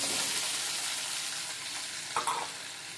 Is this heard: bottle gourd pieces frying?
yes